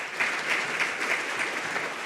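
Audience at a public-private forum in Namibia applauds with dense, continuous clapping at moderate loudness, a short burst that holds steady from start to finish.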